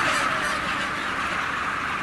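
Dense, constant clamour of chickens packed into a hot, crowded broiler shed, a loud wash of overlapping clucks and squawks with no single bird standing out.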